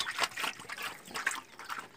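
Water trickles and splashes softly into a pig's trough on a farm in hot weather, a faint, continuous, irregular burble with small splatters and no voices.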